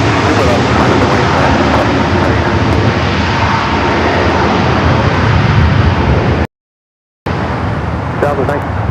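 An airliner roars on takeoff at LAX, a loud broad engine rumble sustained from near, briefly cut out before resuming, with traffic-like noise blended in.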